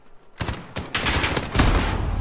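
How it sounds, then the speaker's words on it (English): Call of Duty Modern Warfare gunfire rings out close and loud, a few separate sharp shots followed by a heavier rolling burst. "We missed some shots."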